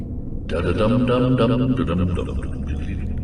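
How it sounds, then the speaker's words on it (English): Foxy, the animatronic fox from Five Nights at Freddy's, sings a short wavering melody on its own in a distorted, robotic voice, warbling and slightly mechanical. "Second piece of why audio would be Foxy's singing, which sounds like this."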